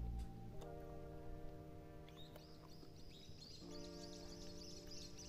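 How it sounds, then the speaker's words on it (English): Birds sing at a campsite in Portland, a few bright chirps and trills over a low steady hum, fairly faint, with no voices. "Yeah, the birds agree."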